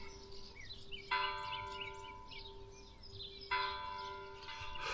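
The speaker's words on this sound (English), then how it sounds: "you can hear the bells of the church" Church bells ring out in a village, with two clear strikes whose tones hang and slowly fade, while birds chirp lightly in the background.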